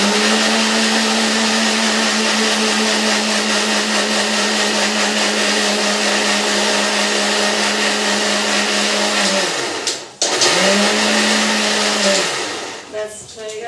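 A kitchen mixer grinder whirs loudly and steadily while grinding poppy seeds, stops briefly, then spins up again and runs on close by.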